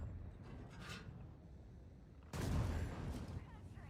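A deep booming video game cannon blast from a Taschenratte tank bursts in midway, loud and rumbling, after a stretch of muffled background noise.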